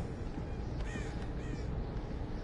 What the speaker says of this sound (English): Or crows, whatever you call these shits